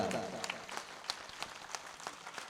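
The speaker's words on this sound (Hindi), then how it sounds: "अपने दोनों हाथ हवा में उठाकर नरेंद्र के लिए वो तालियां बजाइए" Audience at a Hindi kavi sammelan poetry gathering in Udaipur claps for a poet, a thin, fairly quiet patter of scattered hand claps with a few sharper individual claps standing out and faint voices underneath.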